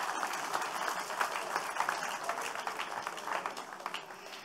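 A church congregation applauds together during a Sunday morning service, a dense, steady burst of many hands clapping that fills the room for several seconds at moderate loudness, with no speech over it.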